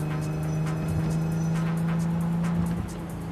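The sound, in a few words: car driving in the video game Cyberpunk 2077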